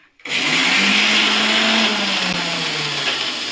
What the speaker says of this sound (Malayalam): അമ്മി ഇല്ലാത്തത് കൊണ്ട് ഞങ്ങൾ മിക്സിയിലിട്ടിട്ട് ഒന്ന് കറക്കിയെടുക്കണം